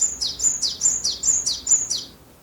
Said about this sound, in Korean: 일본에 있는 박새들은 어떤 소리를 내는지